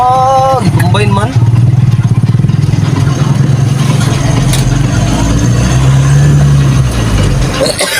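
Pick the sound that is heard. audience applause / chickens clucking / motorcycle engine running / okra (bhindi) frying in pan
motorcycle engine running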